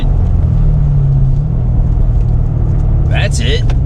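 A Chevrolet Corvette C7 Z06 works through an autocross slalom, its engine a loud, steady low rumble throughout, with a brief higher-pitched whine near the end.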